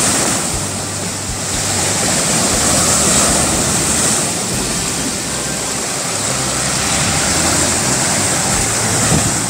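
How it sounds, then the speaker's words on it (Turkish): Small stream of water flowing by the sea at a sea bass fishing spot near Yakakent, a steady broadband rush of running water and surf, loud and continuous throughout with no talk. "Böyle de ufak bir akarımız var."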